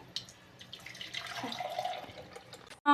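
Freshly ground hill gooseberry juice is poured through a strainer, a soft trickling, dripping liquid sound, faint and close, ending in a sudden louder clatter.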